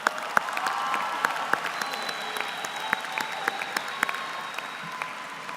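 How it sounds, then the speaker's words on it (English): A large crowd applauds at the St. Thomas University Fall 2017 commencement ceremony, with steady, even clapping filling the hall throughout and sounding somewhat distant. "Give them a round of applause."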